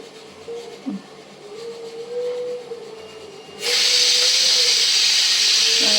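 Pressure cooker boiling potatoes in a home kitchen, releasing a loud, steady steam hiss that bursts in abruptly partway through and holds strongly to the end over faint background noise.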